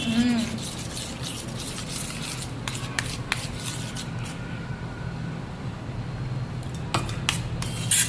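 Cheese ball batter slurry stirred in a bowl, steady scraping and clinking of a utensil against the bowl throughout, with a voice talking over the mixing.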